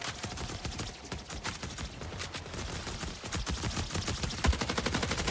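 Sustained rapid gunfire from a sci-fi shooter game, Marathon, with dense overlapping bursts and shots rattling continuously throughout at steady high loudness, no talking.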